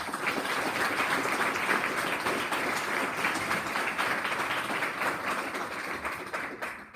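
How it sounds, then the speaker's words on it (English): Sustained applause from the audience at a Grade 7 prize-giving ceremony, dense even clapping that holds steady for several seconds with no talk, then thins slightly at the end. "Let's give them all another round of applause"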